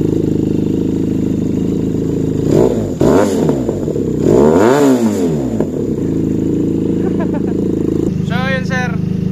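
A QJ SRK 400 motorcycle with a 360-degree crankshaft revs its engine and exhaust, rising and falling through several throttle blips over a steady close idle rumble, with brief talk at the end.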